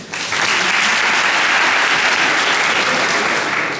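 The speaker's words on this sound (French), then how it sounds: "Applaudissez Bilal." A room full of attendees at a human resources planning talk bursts into loud, dense applause that starts abruptly and holds steady for several seconds.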